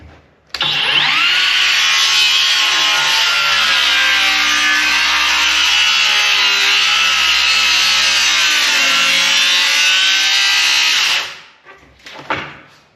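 A saw cuts through wood in a loud, sustained rasping stroke of about ten seconds, ending in a few brief scrapes, with no talking.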